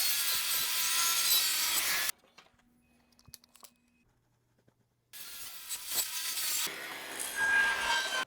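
A saw blade cutting wood for a picture frame gives a loud, steady rasping whine, falls to near silence for about three seconds, then cuts again with the same harsh tone.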